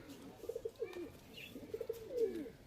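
Two Giribaz high-flying pigeons coo near and soft, with two bursts of rolling, throaty calls separated by a short pause in a quiet setting.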